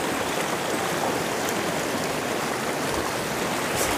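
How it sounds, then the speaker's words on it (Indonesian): The Cimaja River, a clear mountain stream, flows in a dense, steady rush of water, loud and close, with constant splashing and no talking. "Ini sekali lagi Sungai Cimaja ya"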